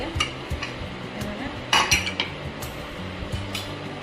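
A spoon stirs and mashes boiled potatoes and softened peas in a pressure-cooker pot for a pani puri filling. Close, irregular scraping, knocks and metallic clinks come through, with no talking.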